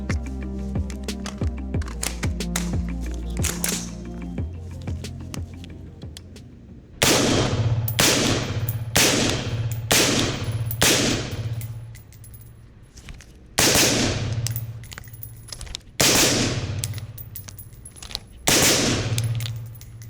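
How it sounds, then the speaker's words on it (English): Belt-fed rifle fitted with a Rugged Axial suppressor and a forced reset trigger, firing a few single semi-automatic rounds followed by several rapid bursts outdoors, each string sharp, loud and close with brief gaps between. "we're gonna do a couple rounds semi-automatic, and then I'll do a few bursts with the Force Reset"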